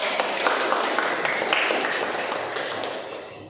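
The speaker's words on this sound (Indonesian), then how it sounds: "Sudah, ya tepuk tangan dulu." Students in an Indonesian-language classroom clap together, a steady wash of applause near and fairly loud that carries on throughout and fades slightly at the end.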